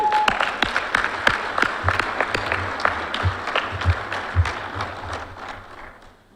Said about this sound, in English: I'd like to just give that a round of applause.